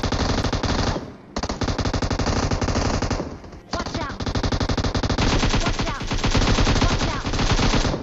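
M249 light machine gun fired in the PUBG Mobile game, loud sustained automatic bursts with two brief breaks, dense and close throughout.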